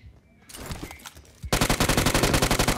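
Gunshots in the mobile battle royale BGMI: scattered shots and impacts at first, then a loud, rapid automatic burst of evenly spaced shots firing continuously to the end.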